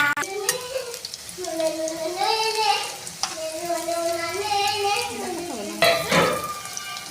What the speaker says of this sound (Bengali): তেলটা গরম হয়ে গেছে, আমি এরপরে এগুলো একটা করে ভেজে নেব